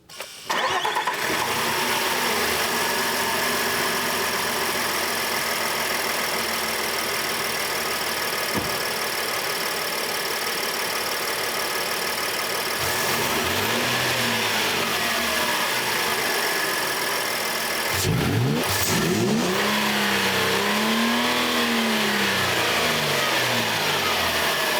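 A 2022 Nissan Frontier Pro-4X fitted with an AFE Momentum GT cold air intake cranks and fires, then holds a loud close idle, with rising and falling revs near the end.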